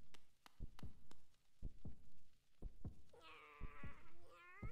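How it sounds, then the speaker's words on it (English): Deep, regular heartbeat thumps pulse through a Hollow Knight game scene, with soft low game ambience and a rising tonal sound near the end; no one speaks. "Why do I hear a heartbeat?"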